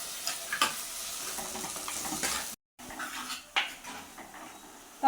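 Tomatoes sautéing in a pan for a small mackerel curry, a quiet sizzle under repeated clinks and scrapes of a utensil against metal, close by, with a short silent gap midway and no voices.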